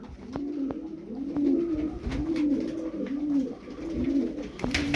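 Tumbler pigeons cooing in a loft of about thirteen birds, repeated soft rolling coos in a steady rhythm, close, with occasional wing flaps and light knocks.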